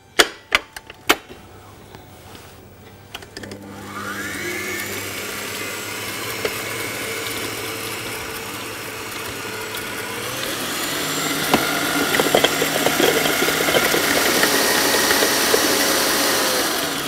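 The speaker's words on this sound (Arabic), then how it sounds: "هنحط الزبدة في البول بتاع العجان ونضربها لوحدها شوية الأول" An electric stand mixer beats butter on its own in the mixing bowl for a pound cake, starting after a few sharp knocks and holding a steady, continuous motor whir that slowly gets louder, close by with no talk.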